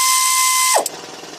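An air ratchet pulls a rocker stud on Chevy 350 cylinder heads: a loud, steady pneumatic whine that suddenly drops away with a brief clunk, leaving hissing air behind.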